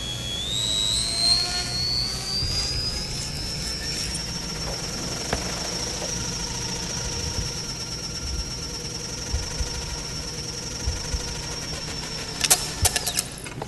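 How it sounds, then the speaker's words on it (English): A hovering aircraft vehicle's engine gives a steady, loud jet-like roar with a high whine that climbs in pitch early on and then holds level, joined by a few sharp clicks near the end and no voices. "we're going to start out the vehicle in a hover position"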